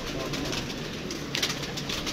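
Pigeons coo softly in a loft, with low, murmuring calls over a steady background hum, growing slightly more distinct after the midpoint.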